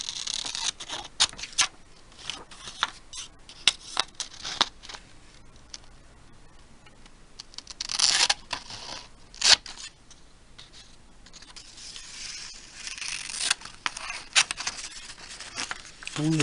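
Scissors snip through paper card in a run of small, close, irregular cuts and ticks, with a few louder crisp snips and quieter patches between them.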